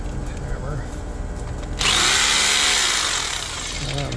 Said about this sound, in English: back to the drill and the hammer